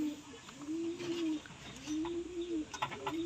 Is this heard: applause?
no